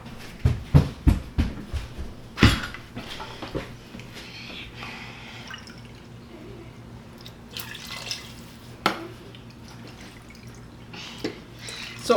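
Water pours and drips into an Instant Pot holding soaked whole masoor lentils, with splashy bursts early, then quieter trickles and scattered drips close by, faint background sounds between.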